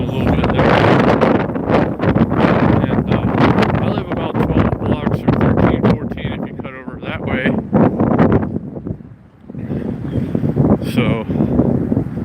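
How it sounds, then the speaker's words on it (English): Strong gusts of wind buffet the microphone on a street in downtown Las Vegas, loud rushing roars that swell and drop, with a brief lull near the end and a person talking underneath. "Oh, wind started gusting a little bit there."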